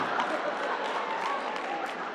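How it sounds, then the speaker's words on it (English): A live audience at a comedy performance applauds in a steady, even wash of clapping that holds at moderate loudness throughout. "Hey, don't applaud yourself, brother."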